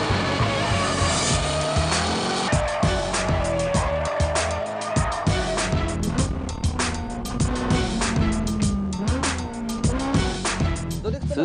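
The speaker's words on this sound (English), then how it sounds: "Slide the car as thrilling as possible" Drift car sliding at a D1 Grand Prix event, engine roaring continuously with tire squeal and skidding throughout, loud and near, with a voice talking over it.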